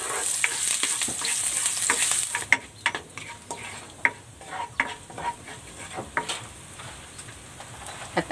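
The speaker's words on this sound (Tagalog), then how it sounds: "Igigisa ko na tong bawang." Garlic sautéing in cooking oil in a pan for a pork vegetable soup, a steady bright sizzle with repeated scraping stirs and clicks of the utensil, close and alone with no talk.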